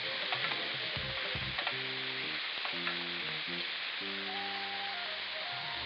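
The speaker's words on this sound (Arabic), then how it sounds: "كده هقلب صدور الفراخ" Chicken breasts for shish tawook sizzle on a grill, a faint, steady frying hiss with a few light crackles under louder background music.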